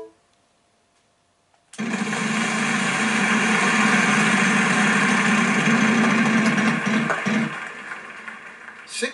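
A prize wheel spins in the Wheel of Fortune PS3 video game, a dense rapid clicking whir that starts abruptly after a near-silent pause, holds steady for several seconds, then slows and fades toward the end.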